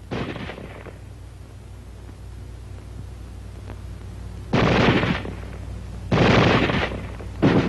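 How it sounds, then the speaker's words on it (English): Automatic small arms weapon fire, heard as three sharp, loud bursts of rapid shots separated by pauses, with no talking. "Weapons giving automatic fire will fire continuously as long as pressure is applied to the trigger or until the ammunition is exhausted."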